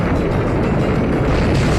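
A booming blast from the Explosion move in Pokémon Omega Ruby/Alpha Sapphire, a loud, dense rumble that holds steady throughout without speech.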